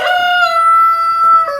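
A single close rooster crow rings out in a barn full of chickens, with roosters and hens, as one drawn-out, clear, tonal call lasting over a second, alone and loud.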